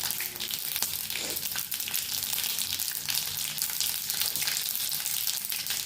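Mustard seeds and a bay leaf sizzle in hot oil for vangi bath, a steady dense hiss with faint scattered pops running close and loud throughout.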